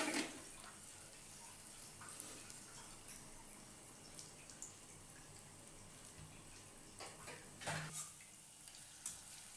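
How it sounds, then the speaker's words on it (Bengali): Palm fruit fritters (taler bora) frying in hot oil until deep red, giving a soft steady sizzle with faint clinks and scrapes of a utensil, quiet and close without any talk. "একদম লাল লাল করে ভাজতে হবে।"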